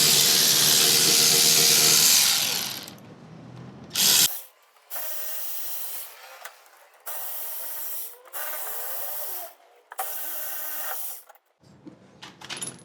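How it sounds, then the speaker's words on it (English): Bolts being undone on the CV shaft of a Hyper Racer X1 RC car, heard as a series of short metallic ratcheting and rubbing bursts separated by brief pauses, close and fairly loud, with no talking. "I will remove some bolts and show how this thing comes out"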